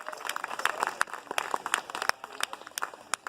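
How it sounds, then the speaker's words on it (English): Audience at a climate rally applauding, a scattered mix of individual hand claps with some sharp near claps standing out over a soft crowd background, fairly quiet overall. "Yeah, you can clap for that one."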